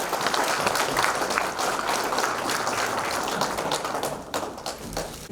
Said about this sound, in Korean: 여러분 다시 한번 축하의 박수 부탁드립니다.